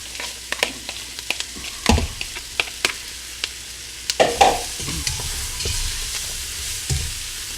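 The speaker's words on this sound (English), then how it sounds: "we're going to saute this for about 5 minutes or so, just to sweat out the onions" Onions sautéing in a pot for gumbo on a stovetop, a steady sizzle broken by irregular scraping clacks of a spoon stirring, with a louder cluster of strokes partway through; close and moderately loud, no voices.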